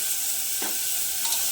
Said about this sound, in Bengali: পেঁয়াজ আর টমেটো তাড়াতাড়ি ভাজা হয়ে যাবে, নরম হয়ে যাবে